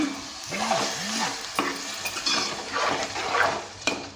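A small fish and cucumber curry is stirred in a pan, with soft scraping and clinks of the spoon over a quiet, steady simmer and gentle sizzle.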